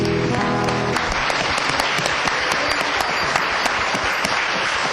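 A church congregation at a Sunday service claps loudly and densely, a continuous wash of applause that fills the room, with a sustained musical tone in the background during the first second.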